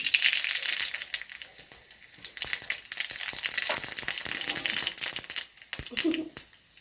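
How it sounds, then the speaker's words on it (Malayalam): Mustard seeds dropped into hot oil while making a Kerala tapioca (kappa) and grated coconut dish, giving a dense, steady crackling sizzle that runs throughout, with a few sharper pops and a voice speaking over it. "അതിനകത്ത് നമ്മൾ ഇച്ചിരി കടുക് ലേശം കടുക് ഇട്ട് കൊടുത്ത്"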